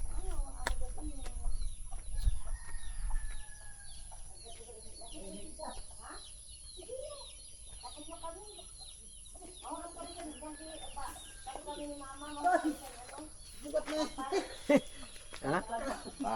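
Chickens cluck and call repeatedly around a rural countryside home, close by and fairly clear, with people talking over them in the background throughout.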